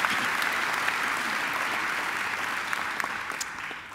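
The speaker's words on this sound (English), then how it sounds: "I think she deserves another great round of applause." A graduation ceremony audience applauds a singer. The dense, sustained clapping fills the hall at steady loudness and fades slightly toward the end, with no voices over it.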